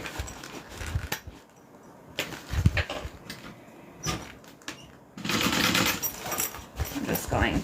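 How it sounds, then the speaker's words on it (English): A sewing machine running a top stitch in quick bursts, its buzzy whir starting and stopping a few times and then running steadily toward the end, close by, with quiet handling noise between the runs. "let's go ahead and do a top stitch"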